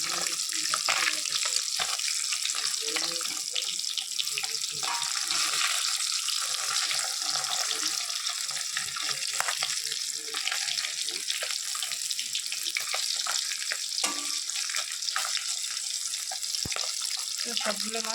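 Fish sizzling steadily in hot oil in a pan after being flipped, a dense continuous hiss with faint clinks, close and fairly loud throughout.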